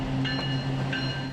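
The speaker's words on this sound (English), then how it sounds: "The trains still roll through the center of Lac-Mégantic, past the site of the disaster, past the memorial to the 47 victims." A freight train rolls through the center of Lac-Mégantic, a steady low mechanical hum with faint, higher squealing tones from the wheels.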